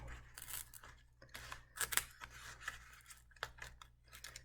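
Close scraping, tearing and rustling as the cut top layer of cardboard is pried up, in short irregular bursts over faint background hum.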